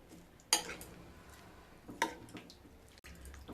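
A spoon mixes lemon juice and chopped coriander into Nepali chukauni, a potato and yogurt dish, in a bowl, giving two distinct scraping clinks against the dish over a quiet, soft stirring background.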